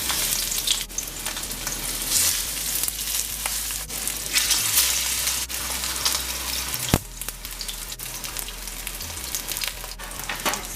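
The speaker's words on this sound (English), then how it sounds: "We're gonna start to fry the yellow plantain." Yellow plantain fries in a pan of hot oil, a loud, continuous crackling sizzle that holds steady throughout, with one sharp tap partway through and no voices.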